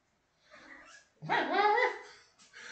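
Indoor dog barking close by, one softer yip followed by a louder, longer whining bark and then the start of another, short bursts separated by brief quiet.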